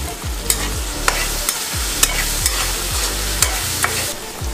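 Karonde cooking in hot oil with spicy green chillies and a little turmeric, a loud continuous sizzle broken by regular scraping stirs every second or so, close and with no voices.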